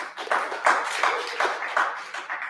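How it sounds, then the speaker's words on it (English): A small group seated around a panel table claps together, a soft patter of hand claps with a few stronger accents, moderately quiet and brief. "Applause for Paula."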